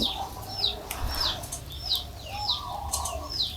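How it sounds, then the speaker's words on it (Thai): Repeated chirping bird calls, about five evenly spaced whistles over a faint hiss and low hum, played back through a small Bluetooth speaker. "เสียงนกนะครับ"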